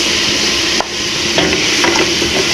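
Minced garlic sizzles and fries in a hot pan, a steady loud crackle with occasional stirring scrapes, close up and without talk.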